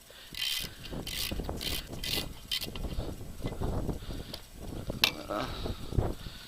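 A ratchet fitted with a 7/16 deep well socket turns a nut on a Suzuki SX4, giving bursts of quick mechanical clicking close by, with a voice talking over parts of it.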